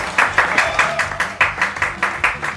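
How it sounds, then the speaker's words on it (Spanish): A small group claps in a steady rhythm, about a dozen sharp, distinct claps spaced evenly over under three seconds, close and fairly loud with no talk over it. "Un aplauso para ustedes."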